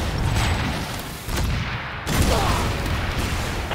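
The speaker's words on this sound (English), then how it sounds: "Switch to your rocket launcher and take them out." Rocket launcher fire against tanks in Planetside 2 sounds as a string of booming shots and impacts in a busy battle, loud bursts separated by brief lulls amid continuous combat noise.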